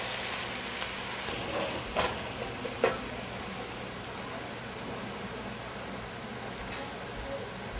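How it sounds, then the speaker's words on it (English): Onions frying in a pan for chicken biryani while being stirred constantly, a steady close sizzle with a couple of brief scraping knocks from the spoon. "So you need to constantly stir the onion, otherwise it will burn."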